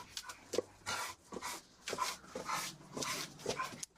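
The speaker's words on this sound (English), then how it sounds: "I can't hear you with the dogs." Several dogs bark and whimper in repeated bursts at a pet or animal holding place, close and fairly loud, with faint voices in the background between the yelps.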